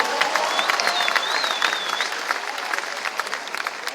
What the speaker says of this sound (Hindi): कहां बेटी हमारी वो, जोरदार ताली बजा इसकी आवाज के लिए भी।